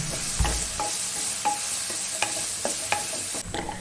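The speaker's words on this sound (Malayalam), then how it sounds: "അതൊന്ന് വാടി വന്നവരെ നമുക്കൊന്ന് വഴറ്റി കൊടുക്കാം." Sliced onion with salt sautéing in a pan, stirred with a spoon: steady soft sizzle with repeated scraping clinks and taps at an uneven rhythm, close and moderately loud, no talk.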